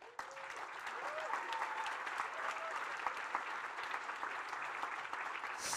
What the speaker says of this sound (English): definitely please applaud them again